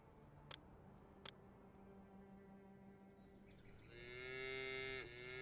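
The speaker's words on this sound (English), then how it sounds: "this mooing sound when you put them down is just hilarious" Two sharp clicks, then a drawn-out cartoonish cattle moo rises near the end as cattle ranches are placed in Pharaoh: A New Era, close and clear over a quiet game background.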